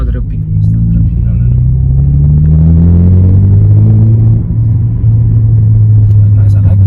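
A 2020 Toyota Corolla XS hatchback with an upgraded exhaust gives a deep, loud rumble up close, its pitch climbing as the engine revs and then settling, with someone talking over it.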